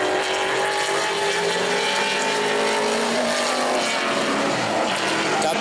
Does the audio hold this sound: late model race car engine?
yes